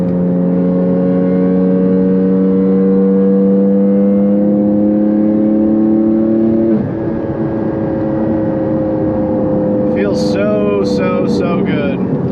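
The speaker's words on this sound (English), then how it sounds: "You do hear quite a bit of tire noise though from the Michelin Cup 2 tires." A Porsche 718 Cayman GT4 on Michelin Cup 2 track tires, its steady engine drone and road roar filling the cabin, with a clear shift partway through and a few brief higher squeaks near the end.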